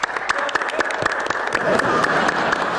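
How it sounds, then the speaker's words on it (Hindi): Children in an audience clap together in a lively burst, many quick, uneven hand claps close by, with a few voices mixed in under the clapping. "बच्चों तालियां बजाओ।"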